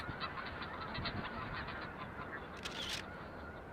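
Geese on Arctic Wrangel Island honk in a noisy chorus, many calls overlapping continuously at moderate distance, with a few higher squawks standing out near the end.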